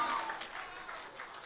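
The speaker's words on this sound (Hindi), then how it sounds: "एक बार 2 ताली हो जाए यार" Audience applause at a live band performance during a college fest, a dense wash of clapping filling the whole moment at steady loudness with no voices over it.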